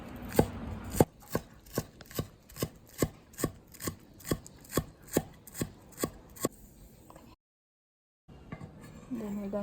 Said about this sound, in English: For the spring onion, we're just going to chop this nicely